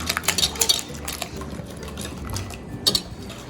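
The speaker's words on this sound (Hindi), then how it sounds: "बस इसको विस्क आप मिक्स कर लें अच्छी तरह से।" Eggs, milk and grated cheese whisked in a bowl for a frittata, quick metallic clinks and scrapes of a whisk against the bowl, close and busy at first, then softer stirring, with no talking.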